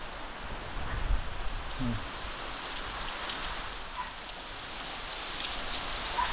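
Steady heavy rain falls on a Konkan village with flooded paddy fields, a constant close hiss of drops, with occasional faint splashes and a low rumble early on.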